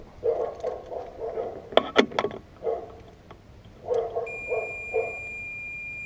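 A dog barks in short bursts, several sharp barks clustered together, with a thin high electronic tone appearing near the end.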